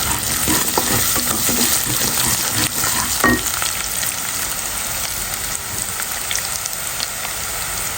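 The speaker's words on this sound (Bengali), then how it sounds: "তো পেঁয়াজটা কষায় নিচ্ছি, দিয়ে দিব সবজি।" Onions fry in a pan for a hilsa fish and eggplant curry, producing a loud, continuous crackling sizzle with occasional stirring scrapes mixed in.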